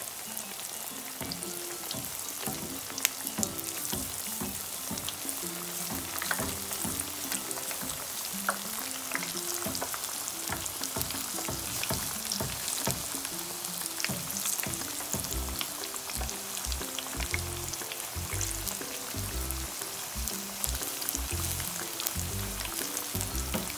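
Batter-coated pakora naan frying in hot oil, a dense continuous crackling sizzle with frequent popping bursts throughout, close and alone.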